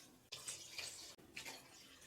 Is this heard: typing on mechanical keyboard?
no